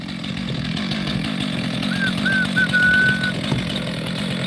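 A chainsaw cuts into a large ponderosa pine log, about 34 inches across, with a steady, loud, close engine buzz that runs unbroken through the whole stretch.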